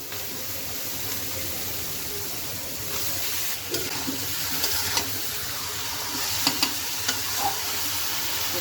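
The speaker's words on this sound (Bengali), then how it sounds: "মাংসটা দিয়ে দিচ্ছি" Chicken meat frying in a spiced masala with Kashmiri chilli powder, a steady close sizzle with a few sharper stirring scrapes toward the end and no talking.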